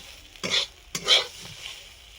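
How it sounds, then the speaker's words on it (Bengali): Two brief scraping stirs in a frying pan of eggplant slices over a faint sizzle, each a short swish followed by quiet. "এভাবে বেগুনগুলো ভেজে তুলে নেব"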